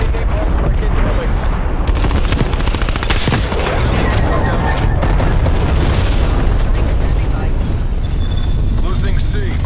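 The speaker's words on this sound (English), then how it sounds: "Enemy napalm strike incoming" Napalm strike in Call of Duty Black Ops Cold War ground war, a dense, loud barrage of booming explosions and rapid gunfire that rumbles continuously for the whole stretch, with game voice callouts mixed in.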